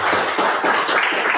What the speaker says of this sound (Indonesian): Beri aplaus tepuk tangan untuk kita semua.